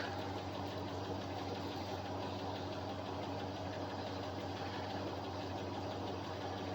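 A 1962 Buick Skylark engine idles steadily, a continuous low rumble with an even, slightly knocking pulse throughout, close by and with no talking.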